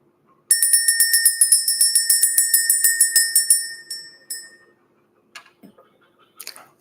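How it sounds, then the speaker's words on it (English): A bell rung in a quick repeated series of bright, ringing strikes for about four seconds, then fading, followed by a few faint rustles. "Let's go ahead and ring the bell."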